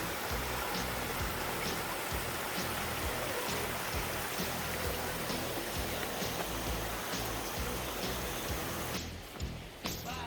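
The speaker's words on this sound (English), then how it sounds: "Sweet waterfalls, cascades." A waterfall cascades on a trail in the Great Smoky Mountains, a dense, continuous rushing roar of water heard close and steady before it drops off just at the end.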